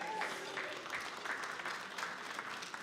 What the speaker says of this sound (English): big round of applause for Hawaii